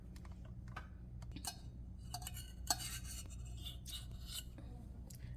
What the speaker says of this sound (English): I'm just getting the rest of sauce from the measuring cup that I had before, so I just scraped it a little bit.